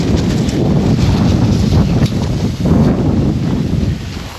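Strong wind gusting across a microphone outdoors on a hike in Sylmar, a continuous loud broadband roar with surging buffets and no voices.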